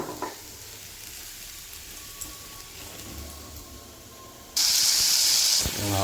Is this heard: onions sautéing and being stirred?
yes